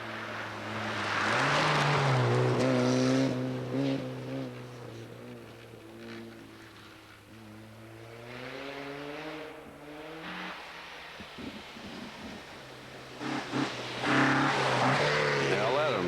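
A Mazda 323 rally car driven by Carl Merrill on a forest stage of the 1989 Rally of the Tall Pines, its engine droning and revving through rising and falling gear pulls, fading and returning, with a voice talking over it.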